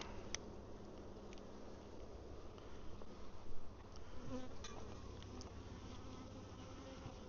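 Honey bees buzz steadily at an open hive during a honey super check, a dense, continuous drone holding at a moderate level throughout with a few brief swells near the middle.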